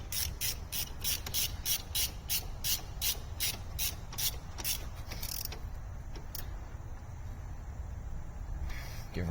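A ratchet rapidly clicks as a fastener on a VW Jetta shifter is tightened back down. The close, rhythmic clicking runs for about five seconds before stopping, followed by a few light knocks and handling sounds.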